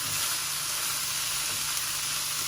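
Pork curry with kaffir lime leaves sizzles steadily in a hot pan as it is stir-fried, a dense, loud, continuous frying hiss heard up close with no talking.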